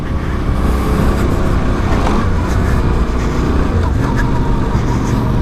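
Yamaha Ténéré 700 motorcycle ridden off-road, a loud steady engine roar with wind rush and rumble, continuous and close.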